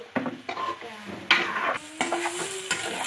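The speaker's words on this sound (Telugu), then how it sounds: "ఒక 2 నిమిషాలు అలా ఫ్రై చేసి ఇచ్చిపెట్టేస్తే సరిపోతుంది." Boiled potatoes being stir-fried in a pan, a close, light sizzle broken by repeated scraping stirs of a utensil against the pan at an uneven pace.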